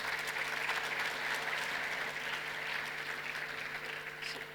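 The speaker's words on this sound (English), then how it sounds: "please, round of applause for all the panelists." Conference audience applauding panelists after a session on alternative fuels and carbon pricing: a sustained, fairly distant wash of clapping from a large room, fading slightly toward the end, with a steady hum beneath.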